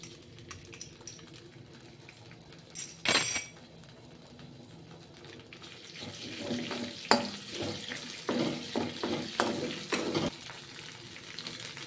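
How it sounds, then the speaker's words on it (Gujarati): Crushed ginger, chili and garlic drop into hot oil for chili gobi and spit in a sudden crackling sizzle. The frying then keeps up in uneven bursts and pops, close by. "હવે વઘાર કરીશું. તો સૌપ્રથમ આપણે આદુ મરચાં અને લસણ એડ કરશું,"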